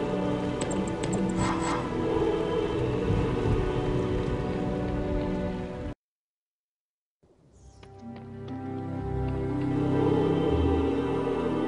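Steady rain pours in the Harry Potter and the Chamber of Secrets video game, a dense loud hiss that cuts out briefly and then returns.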